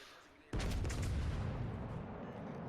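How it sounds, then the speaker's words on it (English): A warship in a naval video game fires high-explosive shells toward the cruiser Belfast, one sudden deep booming salvo that rumbles on loudly and fades slowly, with no voices over it. "So first shot, we had HE chambered, so we send some HE down the Belfast way."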